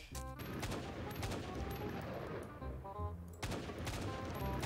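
An AK rifle fires in Minecraft's zombie apocalypse mode: rapid bursts of close gunshots, a brief lull, then another burst.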